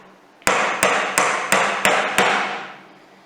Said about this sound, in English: I prefer to use a smaller hammer.